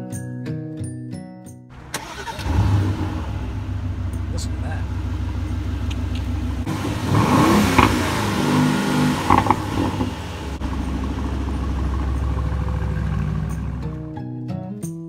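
An Aston Martin car drives past with a steady, loud mid-pitched engine drone that swells and revs for about twelve seconds, set against music that bookends the sound.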